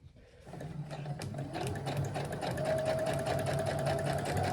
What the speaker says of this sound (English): Let me get a couple stitches in for y'all to see.